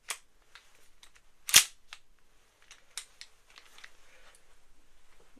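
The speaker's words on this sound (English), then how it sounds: "the slide has a very free action" A steel 1911 pistol handled up close, its free-moving slide giving one sharp metallic clack amid quieter clicks and light handling noises, with no talking.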